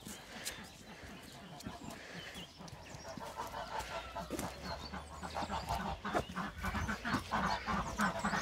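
Ducks and geese in their pen, honking and quacking in a busy, overlapping chorus with rustling and footsteps nearby, while people talk over them.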